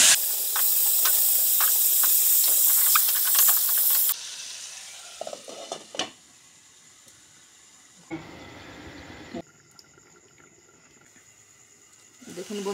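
Pumpkin pieces hit hot cooked-down spice paste for a rui fish curry with a loud, steady sizzling hiss that fades after a few seconds, followed by quieter stirring scrapes and bumps.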